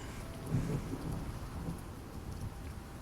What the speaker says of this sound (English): I forgot to turn that storm sound down